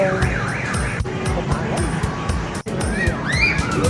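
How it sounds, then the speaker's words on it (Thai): Toy fire truck and ambulance rides at an indoor air-conditioned amusement park in a Bangkok shopping mall, sounding looping electronic siren tones over busy mall chatter and other ride noises, with people talking nearby. "นี่ รถดับเพลิง รถพยาบาล"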